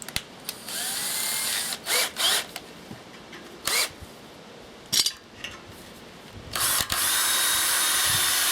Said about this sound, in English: need a pilot drill now